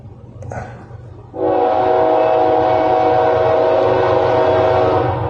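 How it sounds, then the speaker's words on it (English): A freight train passing close by at Pollepel Island near Bannerman Castle, a loud sustained rumble and rolling clatter that kicks in abruptly after a quieter start and holds steady. "And I think it's a freight train."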